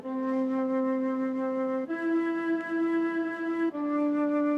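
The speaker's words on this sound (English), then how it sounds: "the flute is cool. Let's give that a little whirl." A synthesized flute plays a slow, sustained rap beat melody of long held notes, steady and clear with no voices, shifting pitch a couple of times.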